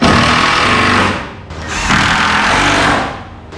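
A power tool drives bolts into a garage roof truss being modified for a car lift, a loud close buzzing whine in two long runs with a short dip between them.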